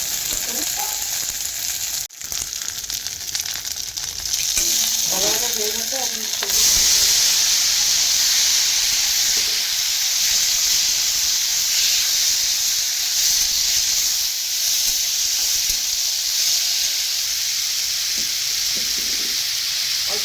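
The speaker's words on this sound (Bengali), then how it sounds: "এটা এখন তেলেতে দিয়ে দিলাম" Cauliflower, carrot, potato, ginger and green chilli, lightly parboiled, sizzle steadily in hot oil for a singara filling, a loud, continuous frying hiss with occasional stirring scrapes and no talk.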